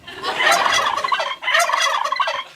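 A turkey gobbles loudly and close by in two rapid rattling bursts separated by a short pause, with no talking over it.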